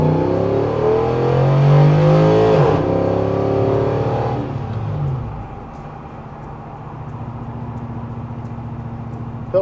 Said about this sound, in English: We'll do a wide open throttle hit.